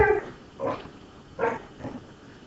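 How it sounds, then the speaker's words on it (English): A dog barks indoors, three or four separate barks spaced about a second apart, fairly close and clear against a quiet room. "I wonder if you guys can hear my dog barking right now."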